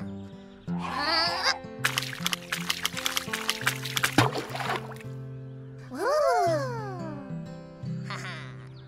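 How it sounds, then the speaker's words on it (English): Cartoon effect of a rock skipping across water in a children's counting animation: a rapid run of light splashy taps, then sliding whistle-like tones, with a musical backing throughout. "Rocky skipped the rock 15 times on the water."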